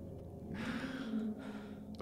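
Heavy, ragged breathing from the horror game At Dead Of Night, one drawn-out breath swelling and fading over about two seconds, close and fairly loud.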